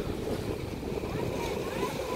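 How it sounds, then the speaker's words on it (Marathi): Steady rush of sea waves and wind against a small boat, continuous broadband wash with low churning water throughout. "हे बघा अशा अचानक लाटा येतात"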